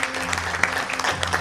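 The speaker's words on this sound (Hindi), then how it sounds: "विकास भाई के लिए एक बार जोरदार तालियां" Audience applause at a Lions Club swearing-in ceremony, a steady dense clatter of many hands clapping close by, sustained throughout the short burst with a faint hum underneath.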